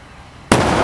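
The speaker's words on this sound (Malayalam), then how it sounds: "നമ്മളെ രണ്ടാമത്തെ പടക്കം അടിപൊളിയായിട്ട് വിജയിച്ചിരിക്കുന്നു" A Vishu festival firecracker bursts with a sudden loud bang about halfway through, breaking a quiet lull, followed by a sustained broadband crackling roar that stays loud to the end.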